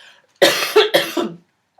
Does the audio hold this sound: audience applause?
no